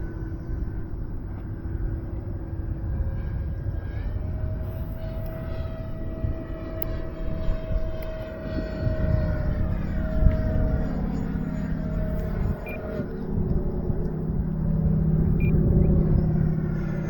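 A small FMS Futura 64mm electric ducted-fan RC jet flies in windy conditions, its engine a steady rumbling drone that swells and fades a little as it passes, with wind noise throughout.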